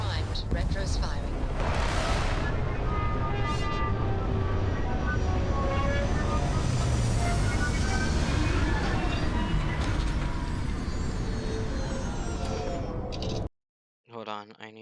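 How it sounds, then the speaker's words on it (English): A spaceship in the video game Starfield lands with retro thrusters firing, a loud continuous roar and rumble with rising whines that cuts off abruptly near the end, followed by a short burst of a voice. "Landing struts primed. Retros firing."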